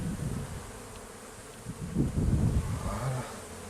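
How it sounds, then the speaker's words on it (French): Honeybees swarm around an open hive on a sunny day, a dense continuous buzzing close by that swells louder midway through, with no voices. "attention aux abeilles"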